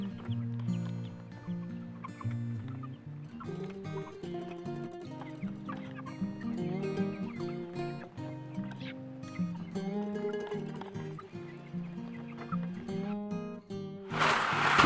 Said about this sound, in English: the chickens figured them out right away